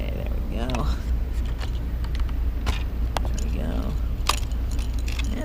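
Keys jangling at a Focus Aventura Impulse Speed electric bike, with a few brief metallic clinks close by over steady background hum while a person talks.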